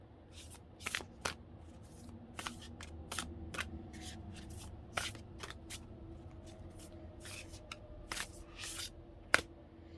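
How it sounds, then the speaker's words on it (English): Heavy, oversized deck of cards shuffled during a reading, giving repeated crisp riffles and slaps in irregular bursts over about ten seconds, close and moderately quiet with no voices. "I'm going to shuffle now"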